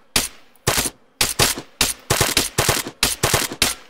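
Bursts of automatic gunfire in the military shooter ARMA 3, loud sharp volleys of two to four shots repeating about every half second, close and dry with brief gaps between bursts.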